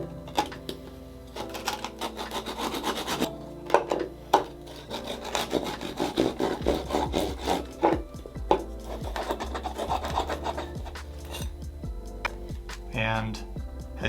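A knife sawing back and forth through a block of clear ice, with irregular scraping and rasping strokes of varying loudness, close up, and a brief bit of talk near the end.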